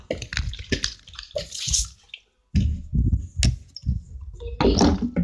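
Tap water runs steadily to fill water balloons, a rushing, splashing stream that cuts out briefly partway through and then resumes loud and close.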